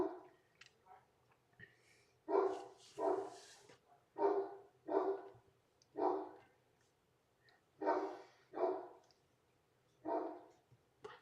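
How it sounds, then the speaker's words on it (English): A dog barks repeatedly indoors, about a dozen loud, clear barks in uneven bursts with short quiet gaps, close by, with no speech over them. "Sorry about my dog in the background."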